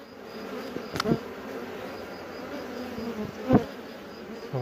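Honeybees from an orphaned swarm drone in a steady, soft buzz around hive frames, with a couple of brief knocks or bumps nearby.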